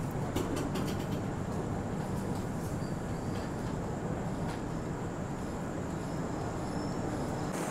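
A passenger train runs along the tracks with a steady, dense rumble and continuous rolling noise heard from inside, plus faint clicks and rattles of the carriage.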